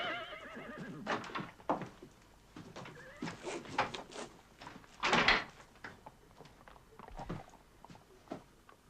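Several horses whinny and snort in short bursts at a moderate distance, with faint thuds and shuffling between calls.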